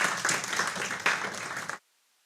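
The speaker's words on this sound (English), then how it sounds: "May we welcome sir with a big round of applause." An audience applauds in welcome of a chief guest at a university agricultural conference, a dense burst of clapping that stops abruptly, heard without speech.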